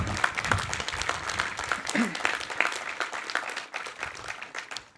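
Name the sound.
audience applause at a college commencement ceremony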